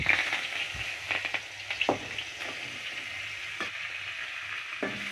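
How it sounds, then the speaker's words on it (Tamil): Curry leaves and pirandai leaves fry in hot oil in a pan, a continuous close sizzle punctuated by sharp crackles and stirring clicks, with no talking. "இப்போ இந்த இலை பொரிஞ்சிச்சு, கறிவேப்பிலையை எடுத்துடுறோம்"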